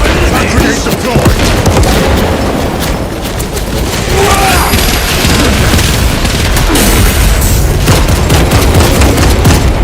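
Grenade blasts and heavy gunfire in the video game Space Marine II, a dense, loud battle din of booms and rapid shots lasting throughout with no break.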